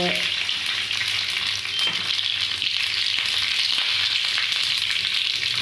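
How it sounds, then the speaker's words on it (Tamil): Curry leaves fry in hot oil along with mustard seeds and urad dal, making a loud, continuous close-up sizzle and crackle that holds steady throughout with no voices. "தாராளமாக அப்படியே பொரிய பொரிய கருவேப்பிலை போட்டு"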